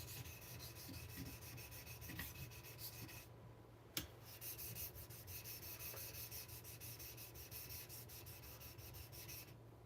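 Knife sharpening on a stone for a custom Apex Ultra gyuto, with long, light-pressure strokes rubbing steadily and continuously, close up, one sharp click partway through and no talk over it.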